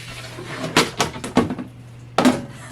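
Brown sugar stirred into plum fruit in a dish, a few sharp clinks and scrapes of a utensil against the dish over a faint steady hum.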